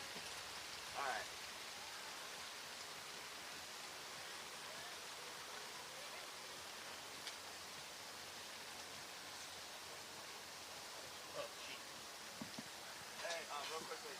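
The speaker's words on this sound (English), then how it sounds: "Little rain never hurt anybody." Steady rain falls at an outdoor summer camp event, a broad even hiss holding for the whole stretch with a few faint knocks and distant voices now and then.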